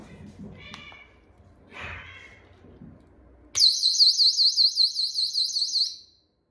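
After a few faint rustles, a personal keychain safety alarm shrieks on suddenly as its pin is pulled, a loud piercing warbling siren that holds steady for a few seconds before cutting off.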